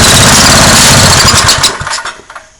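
A Craftsman rototiller's small engine, choked and running on carburetor cleaner, catches and runs loudly and roughly for a moment, then sputters and dies away within about two seconds.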